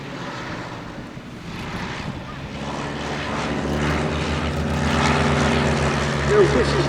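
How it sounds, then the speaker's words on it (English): Two Piper L-4 propeller aircraft flying past at a military air show, their engine drone building steadily from moderate to louder as they approach, with a few voices murmuring over the sound. "in around the bend from the left are the 2 Piper L-4s"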